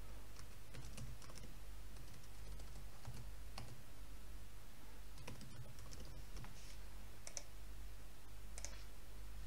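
Fingers type on a computer keyboard in quick, uneven bursts of soft clicks over a constant low electrical hum, with no voices present.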